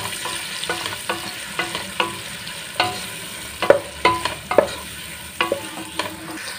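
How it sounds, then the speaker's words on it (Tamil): Long-sliced onions sauté in a pan for mushroom biryani: a constant low sizzle punctuated by repeated loud, rhythmic scrapes and knocks of a ladle stirring against the pan, close up and without talk. "இப்போ வெங்காயம் சேர்த்து வதக்கிக்கலாம்"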